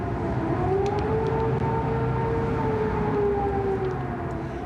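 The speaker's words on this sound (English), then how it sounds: "Those are air raid sirens that came after a night of ferocious bombing." Air raid sirens wail over Baghdad after a night of heavy bombing, a steady distant rising-and-falling tone sustained throughout, with no voices.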